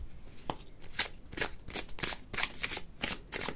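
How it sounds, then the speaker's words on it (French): Oracle cards being shuffled by hand during a March tarot-style reading, a steady run of quick riffling and slapping bursts repeating about every half second, close and fairly loud with no talking. "Alors, je vais remélanger un petit coup."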